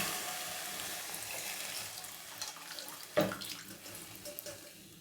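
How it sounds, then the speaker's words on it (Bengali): Chicken stock poured into a hot pot, with a continuous watery rush and hiss of liquid meeting the pan that settles into a quieter bubbling sizzle. "এবার আমি চিকেনের যে স্টকটা করেছিলাম ওইটা এটাই দিয়ে দিলাম"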